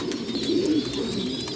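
A race-flown racing pigeon coos nearby, a short, warm, rolling call over a soft background murmur of other birds.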